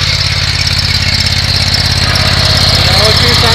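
A Predator small engine running on wood gas from a gasifier, a loud steady idle with a fast, even pulsing throb and a constant hiss on top, with someone talking over it.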